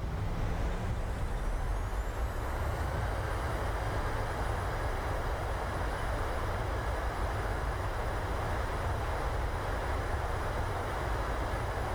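Simulated PMDG 737-800 on landing rollout at Canberra in Microsoft Flight Simulator 2020, its engines roaring in reverse thrust as a steady, dense, broadband rumble with a faint high whine, loud and continuous throughout with no voices.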